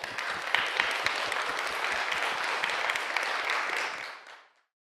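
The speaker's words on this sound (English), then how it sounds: "please show him how enthusiastic we are by big applause" Workshop audience giving a big round of applause for a speaker, dense sustained clapping at steady strength for about four seconds before fading quickly to silence.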